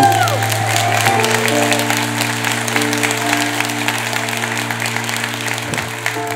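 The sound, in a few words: congregation applauding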